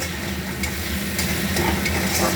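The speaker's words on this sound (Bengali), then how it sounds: "এবার মশলাটা আমি ভালো করে কষিয়ে নেব" Spice paste with a splash of water is stir-fried in a pan for a bele fish curry, giving a steady close sizzle broken by light spatula scrapes.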